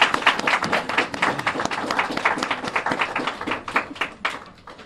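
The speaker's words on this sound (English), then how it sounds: "Please give them the round of applause." A modest audience at a scholarship awards event claps in distinct, scattered bursts that keep a ragged rhythm and taper off toward the end.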